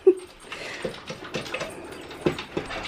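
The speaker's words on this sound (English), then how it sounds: "If any of you have dogs that have the inability to eat slowly and they scarf down their food" A dog gulps food fast from a slow feed bowl, with close, clattering bursts of kibble and plastic scraping in quick irregular pulses.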